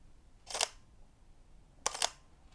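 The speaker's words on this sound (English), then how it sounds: "The shutter sound, which I will demonstrate, is a little bit noisy." Mechanical shutter of a camera firing, two crisp clicks about a second apart, the second a quick double clack, close and isolated against a quiet room.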